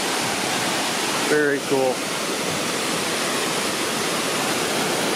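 A waterfall roars beside a hiking trail in the John Muir Wilderness, a loud constant rush of water filling the whole clip, with a brief spoken remark near the start.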